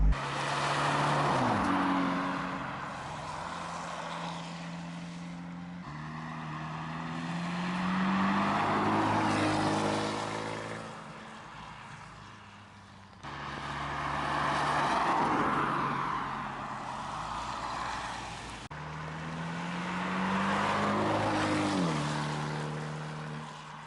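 An Abarth 124 Spider sports car drives up and down a country lane, its engine note climbing through the revs in several passes, swelling loud and close, then easing off between runs.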